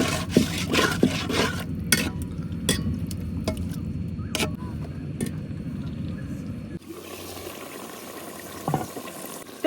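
Tilapia frying in a pan, a sizzle broken by sharp clinks and scrapes of stirring, then settling into a quieter, steadier hiss near the end.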